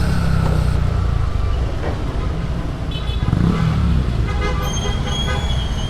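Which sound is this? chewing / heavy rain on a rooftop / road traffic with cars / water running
road traffic with cars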